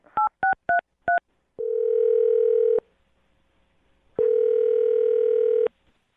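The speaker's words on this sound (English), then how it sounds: "I'm going to dial her phone number right now" A phone dials a number: four quick keypad tones beep in a fast run, then a long steady ringback tone sounds twice with a silent gap between. Nearby and clear, with no talking.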